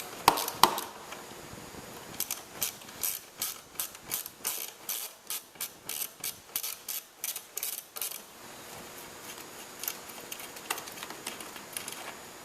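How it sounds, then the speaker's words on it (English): Rapid ratcheting clicks in a steady rhythm from a 10mm ratchet loosening bolts on the plate of a 2006 Polaris Sportsman 90cc ATV, close and clear with brief pauses between bursts. "There's 4 bolts. Choose a 10mm ratchet to get them off."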